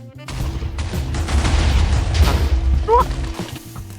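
A deep, rumbling dynamite explosion in Minecraft with crackling debris, loud and close, with a brief voice breaking in near the end.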